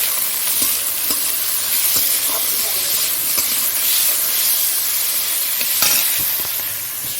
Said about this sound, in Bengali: তারপরে বিনসটা দিয়ে দিলাম, বিনসটা ভেজে নিচ্ছি